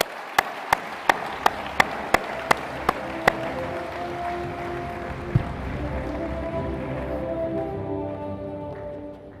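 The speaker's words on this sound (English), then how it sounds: "Please join me in a round of applause." An audience at the International Astronautical Congress in Baku applauds, sustained applause filling a large hall, with a run of sharp regular clicks at the start and the clapping tapering off toward the end.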